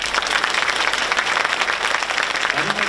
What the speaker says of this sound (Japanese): たくさんの皆さんを盛大な拍手でお見送りしましょう